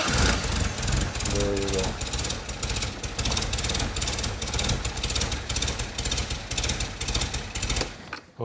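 A 1964 Triumph TR4 engine cold-starts on choke in a garage, then settles into a loud, steady, rapid idle chatter, with a brief spoken remark over it.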